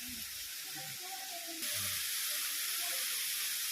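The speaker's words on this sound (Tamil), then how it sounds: "ஆகாயத்துலேருந்து கொட்டுற மாதிரி இருக்குது தண்ணி." The waterfall at Kailasakona Falls pours down as a steady, bright hiss of rushing water, while people talk over it in the first half.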